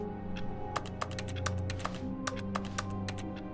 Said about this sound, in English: The clicking makes a keyboard noise. Oh, typing anything does.